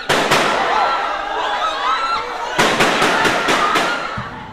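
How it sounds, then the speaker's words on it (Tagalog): High-caliber gunfire during a coup attempt, heard as a rapid series of sharp, loud cracks and bursts with a busy background in between, some shots clustered closely together near the end. "umalingaw-ngaw ang mga putok ng matataas sa kalibre ng baril"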